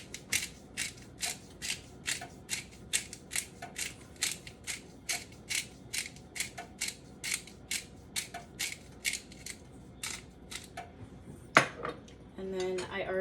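Spices ground in a hand grinder for a spicy cabbage soup, a steady run of about two dozen crisp ratcheting clicks at an even rhythm, close and fairly quiet, ending with a louder clatter and handling sounds.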